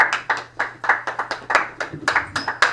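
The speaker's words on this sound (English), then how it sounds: "Please clap for your hosts." Audience at the HotBox event clapping for the hosts, a sparse, distinct rhythm of individual claps in fairly regular beats, close and clear over a faint background hum.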